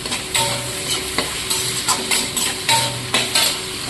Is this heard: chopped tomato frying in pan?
yes